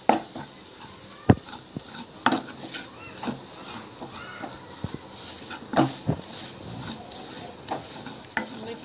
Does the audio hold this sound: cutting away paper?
no